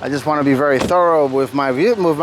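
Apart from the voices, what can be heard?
No distinct noise like a dog, phone or traffic.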